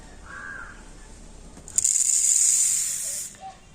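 Sago pearls shaken through a sieve make a bright, sustained hissing rustle up close for about a second and a half, preceded by a faint tone and quieter handling noises.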